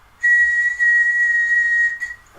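A human voice imitates an Ewok blowing a little whistle, holding a steady, shrill, piercing whistle tone for almost two seconds with a brief break in the middle, close and loud with no other sound.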